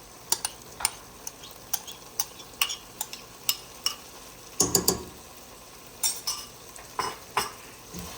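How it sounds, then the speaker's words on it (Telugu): Fresh corn and coriander stirred into a frying masala in a pot, sharp spoon clinks and scrapes ticking in an irregular rhythm over a faint sizzle, close and quiet with no talking. "సో ఇది మంచిగా మిక్స్ చేసుకోండి"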